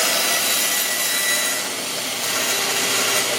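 Bandsaw blade cutting a circle through wood, a steady dense rasping hiss that holds at constant loudness throughout with a slight dip midway, close and alone with no voices.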